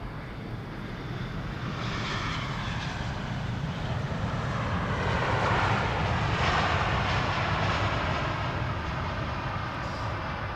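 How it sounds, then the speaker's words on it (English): A KLM airliner lands at Schiphol airport with a steady, loud roar of jet engines that holds for the whole stretch and swells slightly midway, with no talk over it. "we have KLM flight 610 landing here. You might hear it on the mic"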